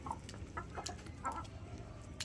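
Poultry chicks on a farm give a handful of short, soft clucks and chirps in quick succession, nearby but fairly quiet over a low background.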